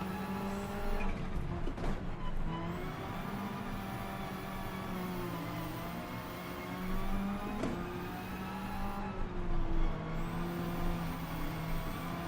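A Ford Mustang in the Gran Turismo 7 racing game drifts through a long slide, its engine droning steadily while the tires squeal in sustained, wavering tones.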